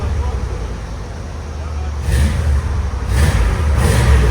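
A Chevy Tahoe 5.7L V8 engine idles low and steady, then revs up in a few rising bursts of exhaust roar, with people talking over it nearby.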